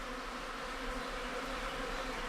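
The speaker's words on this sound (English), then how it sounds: "that ear right there is the main entrance for the bees" Honeybees swarm at their nest entrance in a nature preserve, a dense, close, steady buzzing drone that holds even and loud throughout with no pauses.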